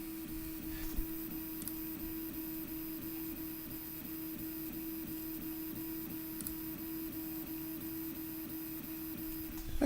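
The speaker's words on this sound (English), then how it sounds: "those stepper motors are from the old CTC i3 style 3D printer" Stepper motors from an old CTC i3-style 3D printer converted to a Prusa i3 MK2 run steadily, a smooth continuous whirring hum with faint ticks, close and alone.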